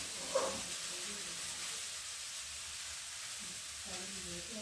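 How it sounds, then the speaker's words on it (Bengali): Beetroot fries in a pan with a steady, close, hissing sizzle that runs evenly throughout, with a brief utensil clink near the start. "এদিকে বিট ভাজা হোক"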